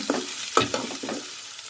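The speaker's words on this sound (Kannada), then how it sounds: "ಸ್ವಲ್ಪ ಫ್ರೈ ಮಾಡ್ಕೊಳ್ಳೋಣ." Potato and beetroot bhaji frying in a pan: a close, even sizzle with a few quick stirring scrapes, brief and with no voices.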